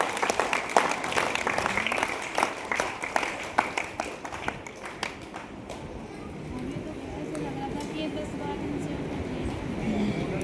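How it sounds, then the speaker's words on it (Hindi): A crowd gives a round of applause, with dense clapping through the first half that thins out and fades into a murmur of voices and room noise. "अरे इनके लिए ताली बजाओ।"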